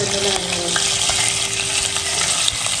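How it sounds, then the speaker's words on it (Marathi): Loud, steady sizzling and crackling of cumin seeds and green chillies frying in hot oil, with occasional sharp pops and light stirring, close up. "सगळ्यात पहिला फोडणीला आपण घालतो जिरा"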